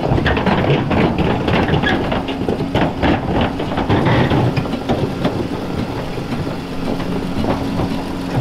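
A snowcat's engine runs loud and close as the tracked machine is driven up onto a trailer, a steady heavy rumble with clanking and rattling over it and a faint droning tone later on.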